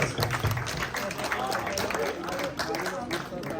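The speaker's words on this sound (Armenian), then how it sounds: "Ծափարում ենք Էդիկի համար" An audience claps to welcome a participant named Edik at a Father's Day gathering in an Armenian adult day health care centre, with scattered clapping running continuously beneath someone talking over it.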